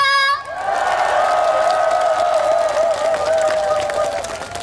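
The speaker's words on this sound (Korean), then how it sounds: "저희 다 같이 박수 함성 질러볼까요?" A large outdoor crowd at the Sejong Jochiwon peach festival claps and cheers loudly, a sustained roar of shouts and applause that follows a brief voice at the start.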